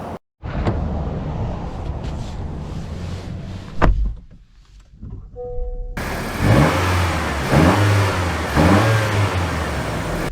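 A Honda CR-V EX-L with a 1.5-liter turbo engine pulls away. It starts with a muffled cabin rumble and a brief quiet gap, then a louder engine swells up with several rising revs as it accelerates.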